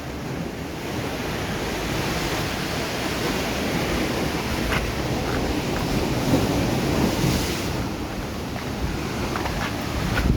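Choppy ocean water churns and crashes below, a loud continuous roar of surf with wind buffeting the microphone and no voices.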